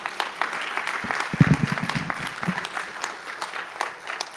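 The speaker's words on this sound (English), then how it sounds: "Can we give our speaker another round of applause?" Applause from an audience at a medical college white coat ceremony swells briefly and continues at a moderate level, with a room full of clapping hands and some crowd noise.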